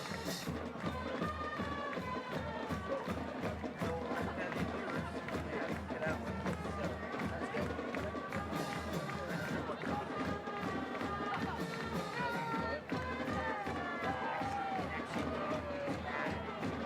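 A crowd at a Mulvane High School football game against Wellington on senior night cheers after a touchdown, a steady, dense roar that holds throughout while an announcer talks over it.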